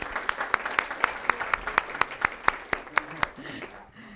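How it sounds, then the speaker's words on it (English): A city council meeting audience gives a short round of applause: a thin, rhythmic spatter of a few hands clapping, close and fairly faint, ending after about three seconds. "let's give her a round of applause"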